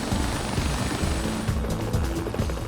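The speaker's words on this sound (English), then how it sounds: "London Sky Cops have 3 helicopters." A police helicopter flying overhead in London, its rotor producing a steady low thumping chop with a droning hum, fairly loud and continuous.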